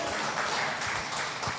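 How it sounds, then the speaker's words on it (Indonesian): Steady crowd applause fills the room at a political debate in Batam, a dense continuous patter of many hands clapping at moderate volume with no pauses. "Tepuk tangan dulu lah untuk kita semua lah ya."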